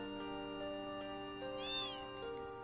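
A cat meows in the video game Final Fantasy 8, a faint, drawn-out call with a rising and falling pitch near the middle, set over a sustained tonal music bed with no talking.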